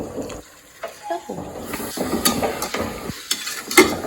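Ginger, garlic and green chillies are stirred in a hot pan for a beef curry, with a soft sizzle under irregular scraping and clinking strokes of the spoon close by.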